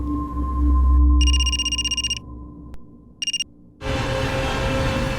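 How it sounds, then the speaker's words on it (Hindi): A telephone rings in two bursts of warbling electronic trills over a low background hum, the second burst shorter, followed by a sudden switch to broadband noise. "किसका फोन था?"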